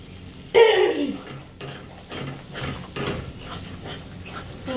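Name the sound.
stirring masala for carrot pulao in a pan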